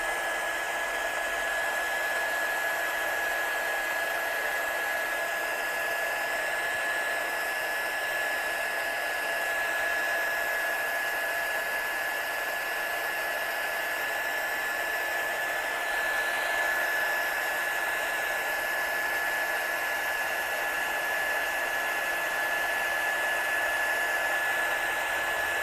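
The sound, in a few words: heat tool heat-setting embossing powder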